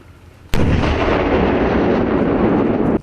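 A mine-clearing line charge is fired on a military training range, a sudden heavy blast followed by a long, loud rumbling roar that sustains for a few seconds before cutting off.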